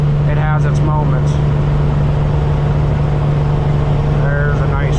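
Custom Peterbilt truck engine running without a muffler while driving, a loud, steady, deep drone that continues throughout, with someone talking faintly underneath.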